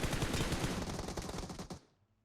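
Automatic gunfire in the video game PUBG Mobile: a fast, loud burst of rapid shots lasting under two seconds, then cutting off into quiet.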